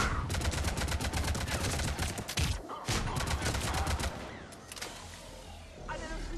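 Rapid, dense gunfire from the sci-fi shooter Mass Effect 3 rattles on continuously in close, loud bursts, easing slightly toward the end, with faint voices mixed underneath.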